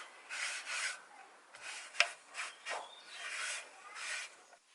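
A slightly damp microfiber cloth rubs over a carbon fibre skinned surface to lift dust, giving soft, close swishing strokes in irregular bursts with brief pauses between them.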